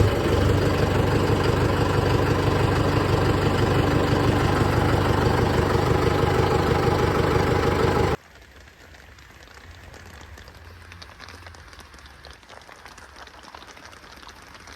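A new tractor's engine runs close by with a loud, steady idling rumble, then abruptly cuts off about halfway through, leaving only faint background noise.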